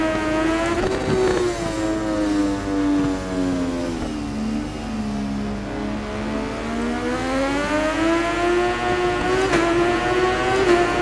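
A 2019 MV Agusta F3 675 motorcycle engine in the racing video game RIDE 4 at the Kanto South track holds a loud, continuous whine that dips and climbs through the revs, with no voices.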